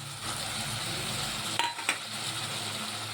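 Spices with salt, turmeric and chilli powder sautéing in a pan for a home-cooked dish, a soft continuous sizzle with a couple of brief utensil scrapes near the middle, close by and without talk.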